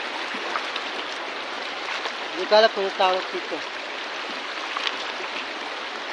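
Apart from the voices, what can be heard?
flowing river water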